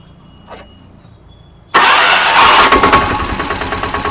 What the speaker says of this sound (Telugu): ఇప్పుడు బండి మనం ఒకసారి బండి మనం స్టార్ట్ చేసి దీని బీడింగ్ ఎలా ఉందనేది విందాం